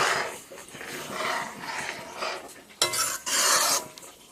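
Dal (lentils) stirred in a cooking pan over fried garlic and dried chilli, giving a continuous wet scraping and sloshing with a sharper scrape partway through.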